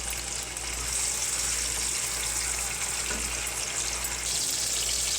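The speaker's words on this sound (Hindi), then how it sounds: "प्याज़ों को ब्राउन होने तक पकाएंगे।" Sliced onions fry in hot oil in a pan for baingan bharta, giving a steady, dense sizzling hiss with no pauses, close and continuous.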